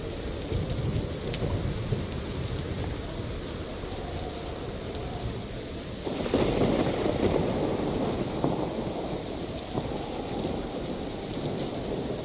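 Rain patters steadily on a copper roof in a video game, with a thin tinny ring to the drops and low rumbling like distant thunder that swells partway through.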